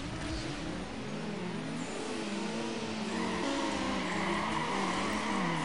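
Car engine revving and accelerating through gears in a Need for Speed Underground drag race with nitrous, rising pitch sweeps repeating as it shifts, loud and continuous with a hint of tire squeal.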